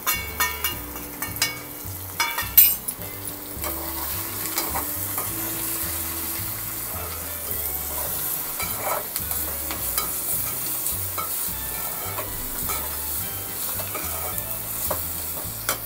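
Dry prawns frying in a pan with turmeric and other spices, a continuous sizzle with spatula scrapes and stirring knocks, fairly close, over faint low background tones and no talking.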